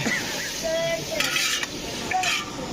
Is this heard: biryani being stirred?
yes